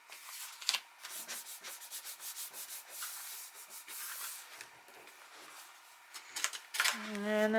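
Hand sanding of a wooden piece, a steady run of short, close rubbing strokes with soft hissing friction, rhythmic and fairly quiet throughout.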